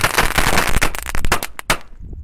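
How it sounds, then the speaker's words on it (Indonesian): A Thor dino egg firecracker going off outdoors during Ramadan evening play, a loud rapid burst of crackling pops close by that thins into a few sharp final bangs, with no talk. "Selanjutnya ini yang kita nyalakan mercon telur dino yang Thor ya"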